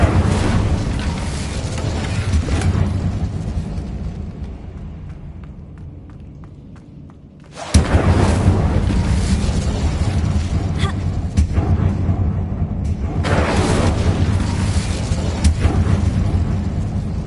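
An Incendio fire spell in Hogwarts Legacy: a dense, continuous roaring burst that swells and fades over several seconds, then a sudden loud whoosh followed by sustained crackling fire-like rumble, near and loud throughout.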